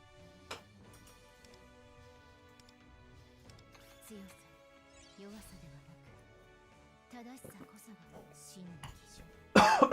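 A person coughs and clears their throat after swallowing something the wrong way, during a live gacha-pulling stream of Persona 5: The Phantom X. Game music and chimes play throughout, and a sharp, loud burst comes near the end.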